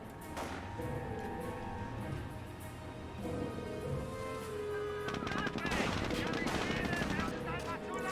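Machine gun fire in Company of Heroes, a World War II strategy game, with a .50 cal in play: sustained overlapping bursts of automatic fire under game noise and voice callouts, growing denser and louder in the second half.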